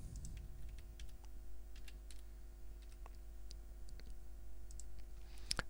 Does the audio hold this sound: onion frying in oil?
no